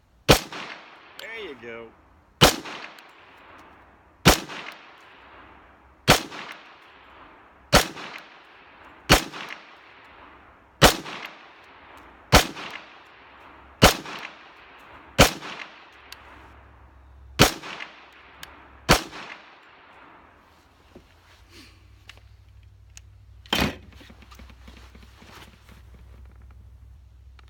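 FNX 45 Tactical pistol with a red dot sight firing at an outdoor target, about twelve sharp, loud shots in a steady rhythm of roughly one every one to two seconds, then a pause and a single late shot, with brief talk at the end.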